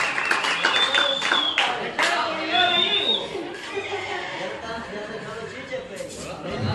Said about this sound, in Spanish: Un aplauso, por favor, para la pareja que se hace presente